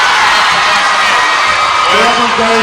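Loud crowd noise in a gym at a girls' varsity high school basketball game, sustained cheering and yelling with whoops and shouts rising near the end, the crowd filling the whole space.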